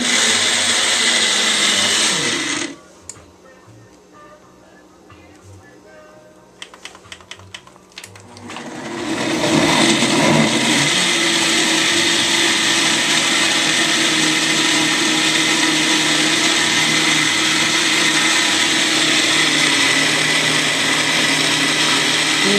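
A blender whirs loudly through a green smoothie of raw ingredients, cutting out briefly with a few clicks, then roaring back up to a steady high-pitched grind.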